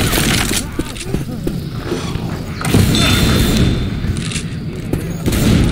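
Explosive frag rounds fire in a modded game of Left 4 Dead 2, giving repeated heavy booms and thuds over a dense, continuous wash of loud combat noise.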